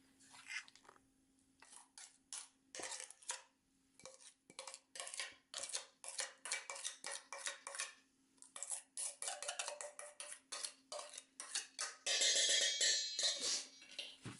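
Broccoli salad tossed gently in a bowl with a utensil, a run of soft close clinks and scrapes in a loose irregular rhythm, ending in a brief louder rattling flurry.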